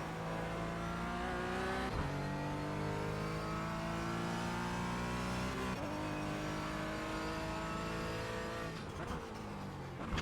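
Porsche GT4 race car engine on the Nordschleife in a video game, revving hard with repeated upshifts and brief drops between gears, a steady loud whine throughout with faint tire squeal, no talk.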